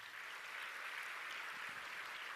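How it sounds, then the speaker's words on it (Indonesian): Applause from an audience at a Santri Day ceremony, a steady dense patter of many hands, faint and distant-sounding throughout. "Tepuk tangan untuk mereka ya."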